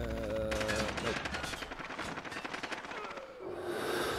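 Rapid automatic gunfire in a video game, a dense burst of cracking shots lasting a few seconds, loud and close, followed by a lower rumble, with voices partly mixed in.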